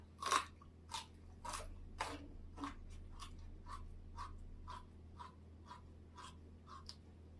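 Raw sweet potato is bitten and chewed up close, a series of crisp, crunchy bites followed by rhythmic wet chewing, quiet and intimate with no talk.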